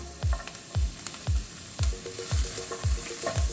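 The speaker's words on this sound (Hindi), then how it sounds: "हम इसमें ऐड करेंगे हमारे कैप्सिकम्स और हमारे चॉप किए हुए अनियन।" Capsicum and chopped onion fry in a pan for a naan stuffing, the steady close sizzle punctuated by regular rhythmic scrapes and knocks as they are stirred.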